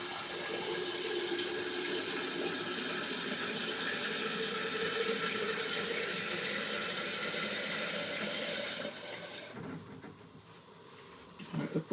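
Water runs steadily from a tap into a kettle being filled, a constant hissing splash that stops near the end, followed by quieter handling clatter.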